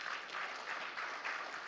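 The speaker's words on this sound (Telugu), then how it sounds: "మీరు ఒక్కసారి గట్టిగా చప్పట్లు కొట్టండి." Audience applause at a film blockbuster celebration event, a steady wash of many hands clapping heard from a distance, fairly faint and continuous without any speech.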